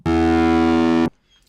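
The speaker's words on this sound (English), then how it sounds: "Now let's listen to the distorted sound." Buzzy, harmonically rich chord of distorted sine waves resembling an overdriven electric guitar, sustained loudly for about a second then stopping sharply.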